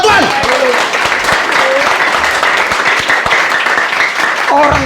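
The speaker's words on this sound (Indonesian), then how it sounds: "Berikan sorak-sorai buat Tuhan." A church congregation cheers and applauds during a worship service, a steady wash of clapping and raised voices that keeps going at full volume from start to finish.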